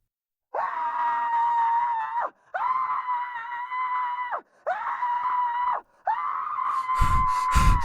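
A woman in a horror film lets out four long, sustained, high-pitched screams, each a couple of seconds long and separated by short breaths, loud and close, the last one overlaid with sharp thumping knocks.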